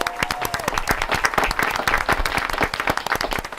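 An audience applauds to introduce a band, a loud and steady round of clapping in which individual claps stand out, carrying on throughout with no speech over it.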